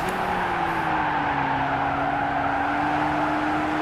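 Sustained tire squeal from a car skidding under late braking in Gran Turismo 6, a steady drawn-out screech with a slowly falling tone over engine hum, loud and unbroken.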